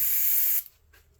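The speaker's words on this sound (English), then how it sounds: "I'm just going to see how this sprays" An airbrush sprays undiluted paint with no reducer, giving a loud, close, steady hiss for about half a second before it cuts off abruptly into quiet.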